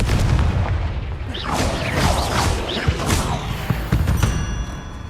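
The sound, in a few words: Bombarda explosion spell cast in video game Hogwarts Legacy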